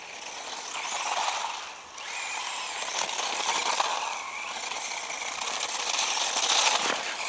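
A cheap GP Toys S912 1:12 scale 2WD RC truggy with a brushed electric motor drives around, giving a continuous buzzing mechanical whine that rises and falls with throttle, fairly distant and without speech.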